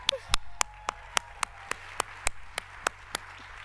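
At a retirement reception, a small audience claps for a live band, about a dozen sharp, evenly spaced claps close by over low background hum.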